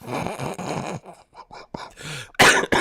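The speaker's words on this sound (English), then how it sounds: "Hey, that made me cough, dog." A man coughs hard several times in a broken, uneven series, with short gaps between bursts and a sharp, loud final cough at close range.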